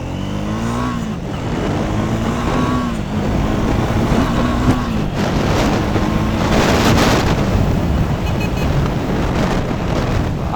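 A motorcycle cruising on an open road during a Sunday group ride, with a steady, loud engine drone and heavy wind buffeting throughout, no voices.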